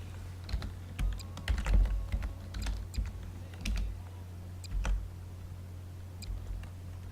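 Keys tapped on a computer keyboard during a Garry's Mod session, quiet irregular clicks in short bursts and pauses, close by over a faint steady hum, no talking.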